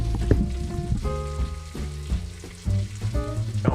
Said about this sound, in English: Oh man, bacon sizzling and jazz.